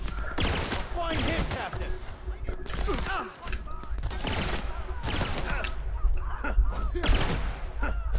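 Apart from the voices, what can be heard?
gunfire in video game The Outer Worlds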